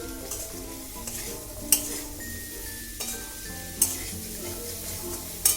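Pumpkin pieces with turmeric and chopped chilli are stirred in a pan, giving a continuous soft sizzle with occasional metallic clinks of a spoon against the pan.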